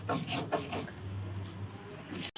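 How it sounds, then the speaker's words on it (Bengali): Mustard seeds, poppy seeds and green chilli are ground by hand on a stone grinding slab, giving close, rhythmic scraping and rubbing strokes, a few quick passes followed by a steadier grating. "আজকে আমি সব হাতে এতে শিলে বেটে আমি দেখাচ্ছি আপনাদেরকে"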